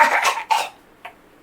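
A single person's cough, mimicking the strained, throat-catching cough that ends the Joker's laugh, comes as a couple of close, harsh bursts followed by a short fainter rasp.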